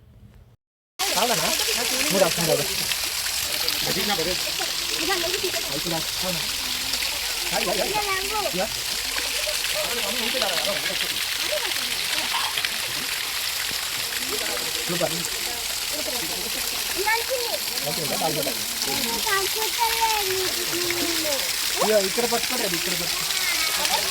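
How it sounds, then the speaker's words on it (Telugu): Continuous rushing water of the Paladhara Panchadhara stream at Srisailam flows nearby, a steady broadband wash, with people talking intermittently over it. "వాటర్ సౌండ్ కూడా ఇంట అంటే ఎంత మంచిగా ఉన్నదో కదా"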